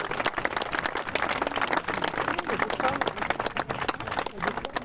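Audience applause for the CCI2*-L eventing prize ceremony at the Saumur horse show, with steady dense clapping filling the whole stretch and an announcer's voice talking over it.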